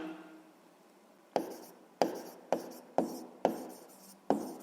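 Handwriting during a sixth-grade math lesson, a pen or chalk stroking out six or so short, crisp bursts in a quick irregular rhythm, close and fairly quiet after a brief near-silent pause.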